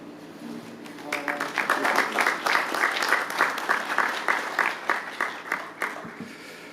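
Crowd applause at a ribbon-cutting ceremony for a new transit facility, beginning after a second of quiet and building into steady, moderately loud clapping from many hands that continues to the end.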